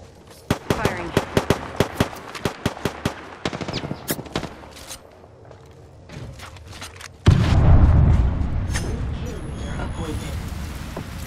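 Gunfire in the video game Apex Legends: a fast burst of close, sharp shots, then scattered single and double shots, then a louder blast that settles into a rumbling roar, with voices talking over parts of it.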